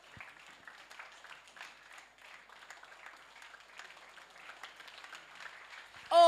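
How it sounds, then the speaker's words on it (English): Audience at a secondary schools workshop keeps clapping at a distance, a faint, continuous patter of hands, ending in a sudden loud close burst. "Keep clapping till he gets here."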